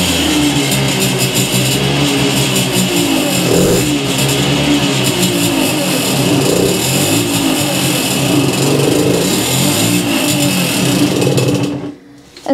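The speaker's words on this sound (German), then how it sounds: "Ich glaube, das Moped klappert" Simson S50N moped engine running on a workshop workbench, revving loudly and steadily with a rattling, buzzing two-stroke tone that swells and dips over several seconds before cutting off abruptly at the end.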